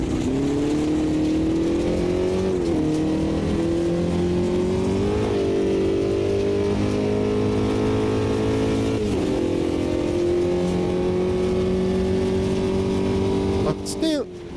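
A rally car in the racing video game Automobilista 2 drives on with a buzzing engine that climbs steadily through the revs and dips at each gear change, loud and close, while someone talks over it.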